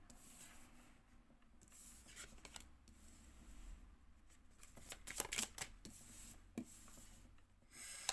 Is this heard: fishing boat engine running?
no